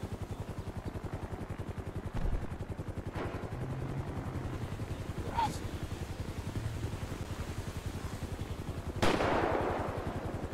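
Bursts of gunfire in a Spanish-language video game roleplay, a few sharp shots standing out over a constant rapid mechanical drone, with people talking.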